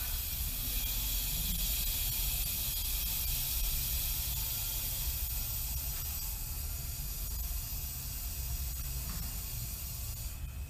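Compressed air hisses steadily into a radiator as it is brought up to 25 PSI for a pressure test, a faint continuous broadband hiss with a low hum underneath and no voices.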